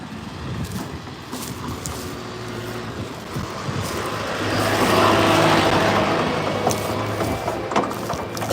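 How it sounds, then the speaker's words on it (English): A tractor passing at full speed outdoors on a ranch, a broad steady engine roar that swells in the middle as it nears and then holds, with no talking. "here comes a tractor, full speed."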